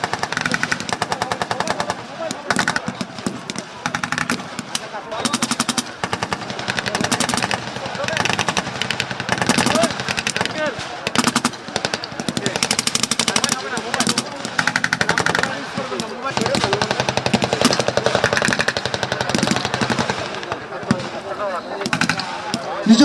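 Gunfire from infantry, tanks and APCs during a military exercise: dense, loud bursts of automatic fire with sharp individual shots, sustained almost without a break and with a voice faintly beneath.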